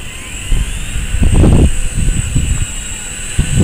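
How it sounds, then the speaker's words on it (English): A high, thin whine of a tiny E-flite Blade mCPX RC helicopter's electric rotor hums steadily nearby as it flies, with gusty low rumbles of wind buffeting in bursts underneath. "We're trying to fly this little tiny helicopter in this weather"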